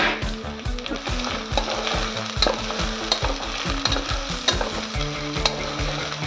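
Freshly ground coriander powder fries in ghee in a pan, sizzling loudly while a spoon stirs and scrapes it quickly and repeatedly against the pan.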